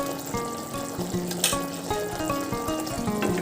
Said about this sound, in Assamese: কোফতাখিনি ধুনীয়াকৈ উতলি আছে